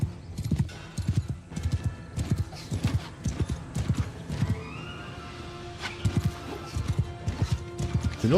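Horse archers' hooves clip-clop in rapid, overlapping bursts in a Warhammer 40K battle game, close and steady, with a horse whinny in the mix and no talk.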